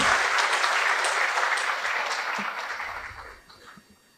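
A crowd claps enthusiastically for 220 newly appointed medical officers receiving their appointment letters at a health empowerment event. The dense applause is loud at first and gradually fades.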